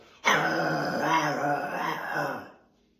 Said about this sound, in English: he growls at me going